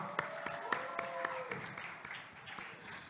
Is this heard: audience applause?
yes